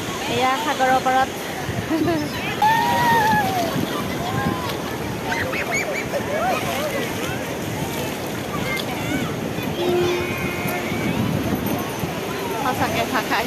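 Ocean waves wash continuously onto the seashore, mixed with gusting wind buffeting the microphone, while people talk intermittently nearby.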